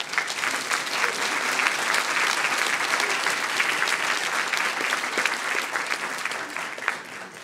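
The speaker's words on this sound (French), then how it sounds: "On peut les applaudir." Applause from a concert audience at a centenary concert, a dense, even wash of many hands clapping, steady and moderately distant for the whole stretch, tapering slightly at the end.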